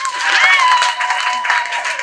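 Congregation applause at a Sunday church service, a broad steady wash of many hands clapping together for about two seconds, fairly loud and close, with no distinct voices rising above it.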